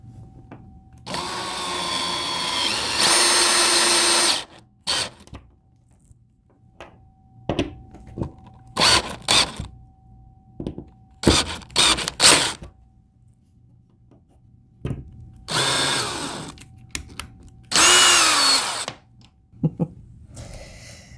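A power drill drives screws into a coffee table in repeated whirring bursts of several seconds each, separated by pauses and clicks, with one screw stripping and another shearing off.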